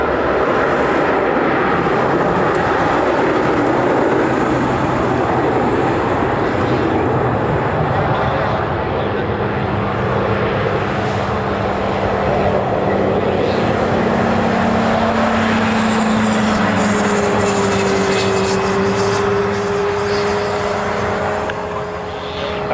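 An airliner executing a go-around on the reef runway at Honolulu airport, its engines a loud, sustained roar that holds steady throughout with a rising whine partway through.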